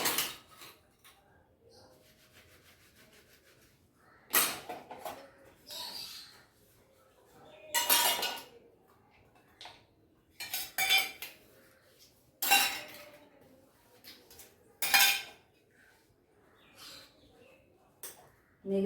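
Metal utensils and dishes being washed and scrubbed by hand, with bursts of clattering, clinking steel and scraping spread irregularly over quiet gaps, fairly close and loud in each burst.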